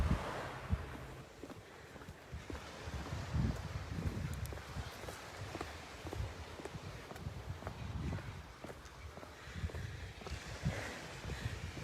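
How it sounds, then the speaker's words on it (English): Waves wash gently onto a beach in soft, rolling surges, quiet and distant, with a light breeze brushing the microphone. "And can you hear those beautiful waves?"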